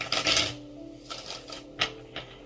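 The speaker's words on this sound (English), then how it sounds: "Let's give them one more shuffle" A deck of tarot cards being shuffled by hand, a few quick riffling bursts and soft card slaps, close and clear with no talking.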